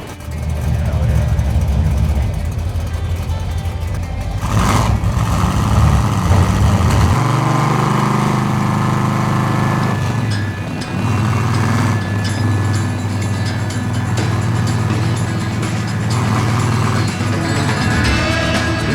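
A Chevrolet Monte Carlo built for the Fast & Furious films runs loud and close, its engine roaring continuously with brief rises in revs around the middle and a steady, heavy drone to the end.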